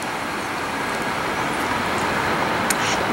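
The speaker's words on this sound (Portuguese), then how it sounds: "Vamos acompanhar o G6 da Nacional ali até o final" A Nacional Marcopolo G6 coach drives off from the Tietê bus terminal in São Paulo, heard as a steady, moderately distant wash of engine and traffic noise with a few faint higher clinks, and no voices.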